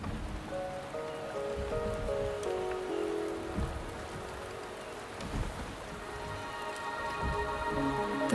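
Steady rain patters and hisses throughout in Wuthering Waves, with soft sustained musical tones layered over the downpour.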